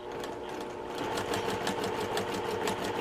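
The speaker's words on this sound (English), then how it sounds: "I'm just sewing that a scant 1/4 of an inch on all 4 units." Sewing machine chain-piecing quilt block units at a scant quarter inch, a fast steady mechanical whir with rapid stitch ticks that picks up slightly partway through, close and continuous.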